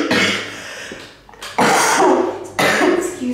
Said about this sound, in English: sometimes we cough, it's all right.